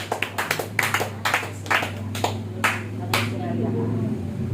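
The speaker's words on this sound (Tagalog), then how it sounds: "Malakas na palakpak sa ating Diyos." Scattered claps from a church congregation at a Filipino worship service in the Easter season, a dozen or so distinct hand claps in a loose rhythm over a steady low hum, with talk around them.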